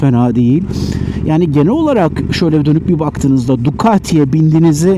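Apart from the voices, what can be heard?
No everyday noises stand out.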